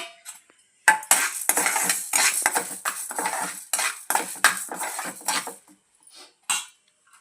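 Urad dal and toor dal dry-roasting in a pan with coriander seeds produce bursts of dry rattling and scraping as a spoon stirs them, loud and close, with short pauses between strokes.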